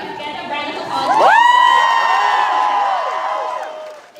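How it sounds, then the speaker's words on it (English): A crowd at a UT Dallas student event cheers, with loud rising whoops and shouted voices swelling up and then trailing off, plus light scattered clapping underneath. "Here they are, if I could get a round of applause."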